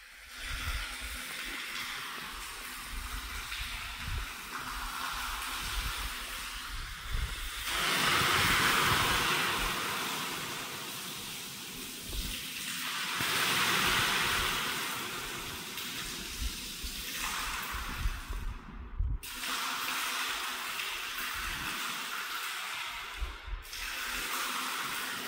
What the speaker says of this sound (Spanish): Vamos a ponerle atención al ruido que provoca el agua.